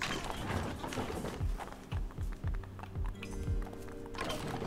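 Goats walking in the video game Creaks make a series of rhythmic clopping footsteps, steady and fairly close, over a soft game background with no talk.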